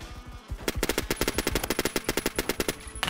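An automatic gun fires in the online shooter Phantom Forces, a rapid, even burst of about twenty loud cracks that starts after a brief quieter lead-in and runs to the end.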